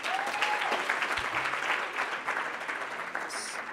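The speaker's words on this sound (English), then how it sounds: "Let's give one more round of applause for Governor Lujan Grisham." Audience at a policy conference applauds for Governor Lujan Grisham in a dense, sustained round of clapping that stays loud throughout, with a brief whistle-like tone near the start and a short bright ring near the end.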